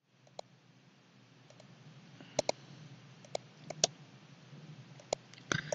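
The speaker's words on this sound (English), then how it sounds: "Right click, come into the add, click here, make a connection like this." Sparse, crisp mouse clicks scattered irregularly over a faint background hum, some landing as quick doubles, close and sharp, while working in LabVIEW software.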